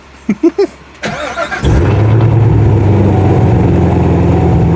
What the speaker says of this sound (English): we're getting ready to do a start from inside the car